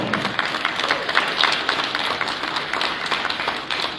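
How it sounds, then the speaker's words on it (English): A morning conference audience claps together in a full, even round of applause, many hands at a steady fairly loud level throughout with no voices standing out. "Can you give yourself a real round of applause this morning?"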